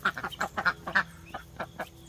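Guinea fowl calling loudly outdoors near ducks: a rapid run of harsh, rhythmic squawks and cackles, close and fairly loud, repeating in quick bursts over faint background.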